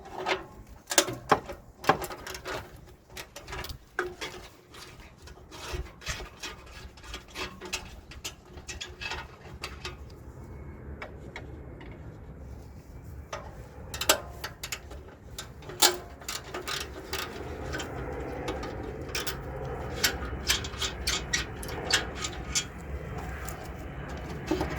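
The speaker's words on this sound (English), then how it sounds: "We're going to take the heat shield off using number 12. Two more bolts on the bottom here." Ratchet with a 12 mm socket turning heat shield bolts under a 2007 Scion tC, a faint, irregular clicking with metallic clinks close by and quiet background rumble.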